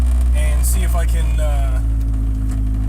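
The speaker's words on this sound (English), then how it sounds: "give it some revs to help those rings seat" Station wagon engine running at steady idle-to-raised revs while warming up, a constant low drone close by with a person talking over it.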